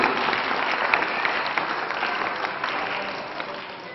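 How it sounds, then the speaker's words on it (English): At the opening ceremony of an alumni meet, an audience gives steady applause, a dense, even stream of many people clapping that fades slightly toward the end. "Big round of applause."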